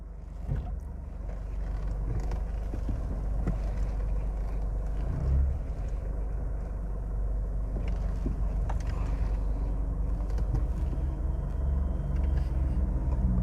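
A Toyota Hilux in 4x4 rolls slowly along. Its low engine and drivetrain rumble stays close and continuous, with occasional thumps and creaks from the vehicle.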